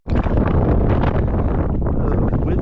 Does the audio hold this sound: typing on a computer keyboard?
no